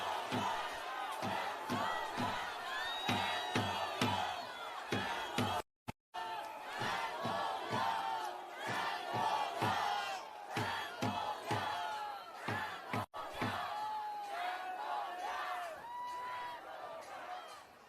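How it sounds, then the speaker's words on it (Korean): A large crowd at an outdoor People Power Party protest rally roars with cheers and chanting while clapping in a steady, rhythmic beat for party leader Jang Dong-hyuk, loud and sustained with only brief gaps. "장동혁 대표님께 큰 박수와 함성"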